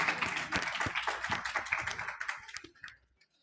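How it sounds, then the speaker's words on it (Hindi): A crowd applauds a topper student being honoured at a school and coaching felicitation, with dense, steady clapping that lasts about three seconds and then tapers off to a few scattered claps. "ताली हो जानी चाहिए"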